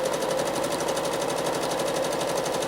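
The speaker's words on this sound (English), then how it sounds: "I'm going to do a little bit more travel stitching" A sewing machine runs travel stitching on a paisley echo-quilted quilt as a fast, even mechanical whir, steady and close throughout, with no pauses and no voices.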